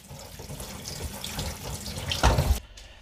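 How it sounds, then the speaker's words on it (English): Cold water streams from a kitchen tap over grapes being rinsed, a steady close splashing rush that swells briefly near the end before the flow cuts off abruptly. "Take them off the stem and rinse them in cold water."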